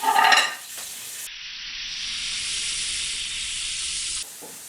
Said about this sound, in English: I'm gonna let those saute for a little bit.